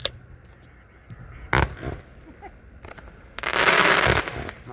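A 33-shot Bad to the Bone firework cake at an outdoor demo fires a few sharp separate bangs, then a loud dense burst of crackling; the bangs come from a distance.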